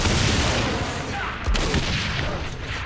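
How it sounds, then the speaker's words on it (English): Rocket launcher blasts and gunfire in Saints Row IV, a dense, loud wash of explosions and rapid shots filling the whole short stretch, with a heavier boom partway through. "Rocket launcher is fine. I'm gonna shoot at his feet."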